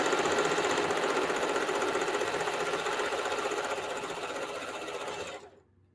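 A sewing machine runs in one continuous, steady burst, stitching jellyroll strips for a placemat, then cuts off abruptly near the end.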